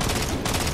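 Gunfire traded between players in a Halo 4 multiplayer match, a brief burst of rapid, loud overlapping shots with no talking.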